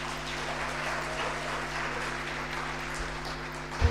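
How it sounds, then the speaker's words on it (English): An audience claps steadily at the opening of a neuro-oncology scientific conference, a dense sustained patter of many hands that stays even throughout. "Let's give hands of applause and raise"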